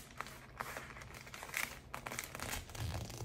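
Paper sleeve pattern being folded backwards, giving soft close crinkling and crumpling rustles with a few sharper crackles over about three seconds, no talking.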